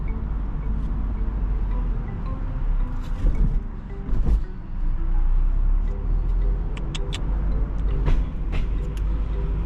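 A car drives down into an underground car park, a steady engine and road rumble with echoing reverberation, a few thumps and clunks along the way, loud and continuous without speech.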